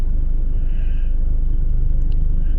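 Low, steady rumble of cars passing outside a Market Basket grocery store, a continuous engine and tire drone close by, with a couple of faint high chirps late on and no talking.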